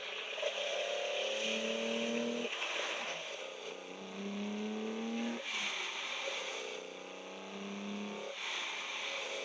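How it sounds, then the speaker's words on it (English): A 1972 Holden XU1 Torana engine breathing through carburetors revs hard in repeated rising pulls, each climbing in pitch before dropping back, loud and close with no talk. "That music that those carburetors make, I want to hear it, and I want to hear it all the time."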